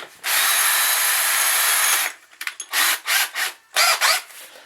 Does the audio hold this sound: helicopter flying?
no